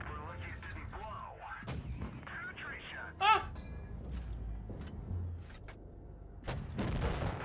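Booming tank cannon shots from the video game World of Tanks-style battle of an FV4005 ring out, one sharp blast standing out midway, with someone talking excitedly over the battle noise.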